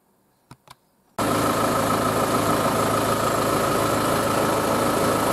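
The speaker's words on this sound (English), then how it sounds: "So I'm going to warm the engine up now" A diesel 200TDI engine in a Land Rover Series, heard as two short clicks and then a sudden start into a loud, steady idle as it warms up, with no voices.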